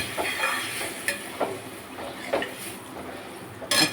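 Dal cooking in a pan with salt and a little sugar, a soft sizzle under a few clinking stirs and scrapes of a spoon, close and moderate, with a sharper clatter near the end.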